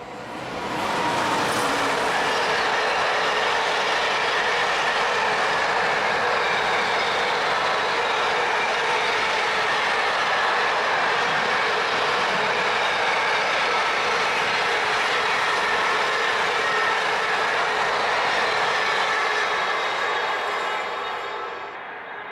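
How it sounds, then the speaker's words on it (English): A Tesco freight train rumbles past at close range in a quiet Scottish village, its steady clattering roar holding loud and even for about twenty seconds before easing off at the end. "There's a Tesco freight train."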